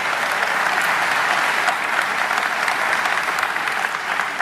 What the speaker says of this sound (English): Please give Robin a great round of applause.